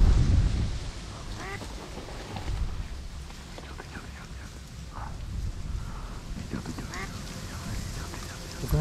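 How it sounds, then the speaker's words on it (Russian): Ducks quacking outdoors during a duck and jackal hunt, several short honking calls scattered through a steady wind-blown background, fairly close, with faint talk mixed in. "Вон, две уточки идут."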